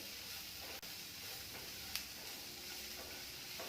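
Bell pepper (capsicum) frying in a pan over low-medium heat for paneer tikka pulao, giving a steady soft sizzle and hiss throughout with a couple of faint clicks.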